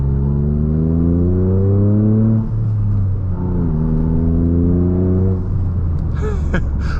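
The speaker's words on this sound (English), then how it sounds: "Hopefully you guys can hear that exhaust. It's pretty" A Toyota GR Corolla's exhaust roars close by as the engine revs up through the gears, its pitch climbing, dipping briefly at each shift, then climbing again.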